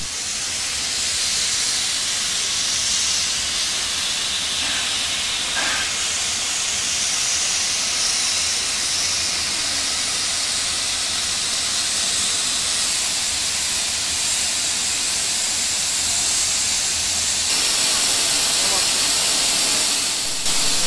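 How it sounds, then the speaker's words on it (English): Loud, continuous hiss of escaping steam from a historic steam locomotive at Quorn, South Australia, steady and close for the whole stretch, with faint voices buried beneath. "the historic steam train trip to Pichi Richi Pass and return."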